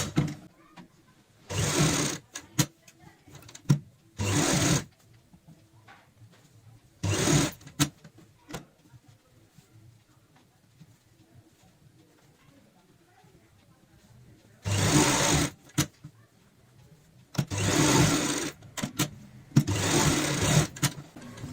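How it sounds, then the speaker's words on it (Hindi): A sewing machine stitches the edge of a cushion cover in short bursts of fast, steady whirring, separated by quiet pauses as the fabric is repositioned. "बिल्कुल यहाँ पे आप किनारे की सिलाई लगाएं"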